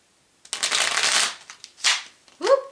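Tarot cards are riffled and shuffled by hand in a few quick bursts of papery flutter and snapping, close and fairly loud, with a short pause between bursts.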